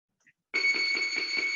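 Round bell starting a Muay Thai class, a brief soft tick followed by loud, rapid repeated metallic ringing, close and continuous, with no talk over it.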